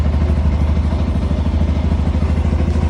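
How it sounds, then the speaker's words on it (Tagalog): A Sniper 150 motorcycle engine, started without a key through an alarm system, idles steadily and loudly with a fast, even low-pitched chugging that holds throughout. "Nag-start na yung motor kahit walang susi."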